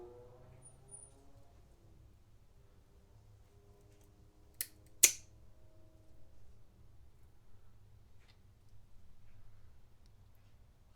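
A Tsunoda wire rope cutter snips through stranded stainless wire rope, giving two sharp, close clicks in quick succession over a low steady hum, then faint small handling noises.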